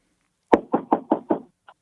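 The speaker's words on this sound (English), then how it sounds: "I got somebody here at the door." Five firm knocks on a door in an even rhythm, close and loud against silence, followed by a faint small tap.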